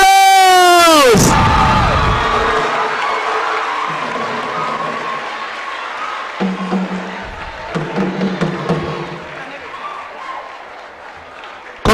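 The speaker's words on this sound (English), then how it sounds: "with a round of applause, let's give it up for Ebri Girls!" At a national public speaking competition grand finale, the audience bursts into loud applause and cheering for Ebri Girls right after a shouted announcement. The broad roar of the crowd slowly fades, and talk comes in over it.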